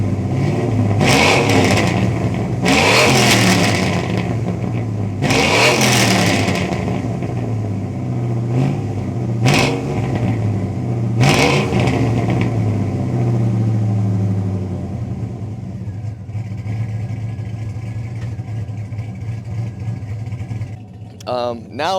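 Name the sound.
cammed 6.0 Chevrolet Silverado engine revving with exhaust cutout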